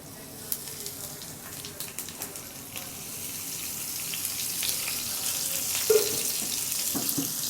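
Cumin seeds and curry leaves fry in about three tablespoons of hot oil for a tadka for dahi bade, a steady crackling sizzle that grows slightly louder and busier toward the end, with a sharp burst of spitting near the close.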